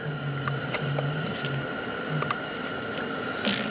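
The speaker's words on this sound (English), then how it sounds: "So you just pump this till the primer ball starts to get hard." Fuel primer bulb on the Kubota engine of a Bobcat skid steer being squeezed by hand, giving a series of soft, rhythmic squishing pumps, about five strokes in a row, close up with no talking.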